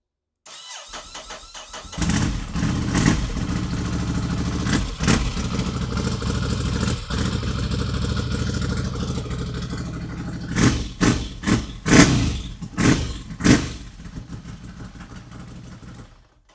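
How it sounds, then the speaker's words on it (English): Ducati Scrambler motorcycle starting on a newly replaced battery: a starter crank catches into a steady, close mid-pitched engine idle, followed by several sharp throttle blips near the end before it settles and cuts off. "we're gonna test out the new battery, and we are just gonna start the bike"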